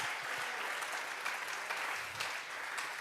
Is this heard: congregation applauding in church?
yes